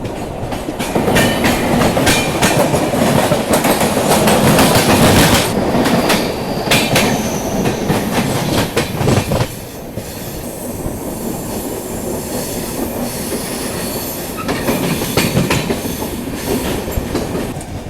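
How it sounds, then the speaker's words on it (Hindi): A Banaras–Mumbai LTT superfast express rumbles past close by on the Kasara ghat section, loud rolling wheels with rhythmic clickety-clack and some wheel squeal, easing slightly in the second half but continuing throughout. "सामने से आ रही है train number 12168 Banaras Mumbai LTT superfast express"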